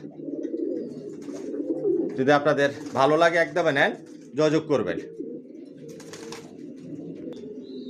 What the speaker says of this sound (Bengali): এখানে 1 জোড়া অ্যাডাল কবুতর দেখাচ্ছি